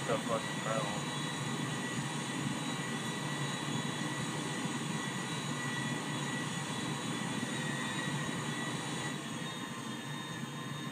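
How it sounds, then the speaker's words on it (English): Airplanes at an airport in the video game GTA V give off a continuous, even jet-engine roar that holds at a steady moderate level throughout. "And you can enjoy the airplanes."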